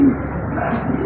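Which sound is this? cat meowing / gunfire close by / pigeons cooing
pigeons cooing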